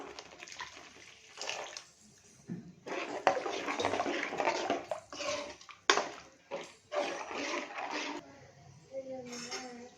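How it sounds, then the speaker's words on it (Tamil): Water pours into a pot of eggplant kuzhambu in uneven bursts, with occasional clinks of cookware and a brief voice near the end. "தேவையான அளவு தண்ணி சேர்த்துக்கலாம்."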